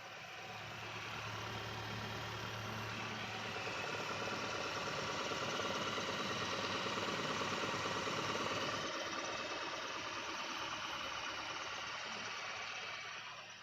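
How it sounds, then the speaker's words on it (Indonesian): A used car engine idles steadily for over thirteen seconds, a constant low rumble with an even hum and no clear changes in speed. "kita dengarkan dengan seksama apakah mesin ini suaranya halus atau ada suara-suara yang aneh"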